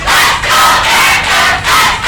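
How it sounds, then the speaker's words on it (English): A student crowd at a girls' football match cheering and yelling loudly, a dense roar swelling in repeated waves, close and continuous, with no single voice standing out. "The Bearcat student body is certainly behind them. You can hear them cheering loudly after their brief stunned silence."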